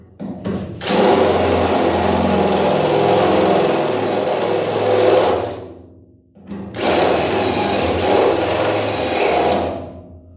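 A power drill whines loudly through rusty sheet metal, drilling out spot welds in two long sustained bursts separated by a brief pause, close and grinding.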